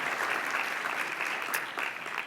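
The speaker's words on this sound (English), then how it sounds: "Give them another round of applause before we move on to the next one." A crowd at an online journalism awards ceremony claps in a brief, full burst, steady and close with no voices over it.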